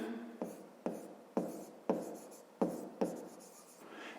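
Handwriting on paper during a fifth-grade maths exercise, six or seven short scratching strokes in an even rhythm, close and soft.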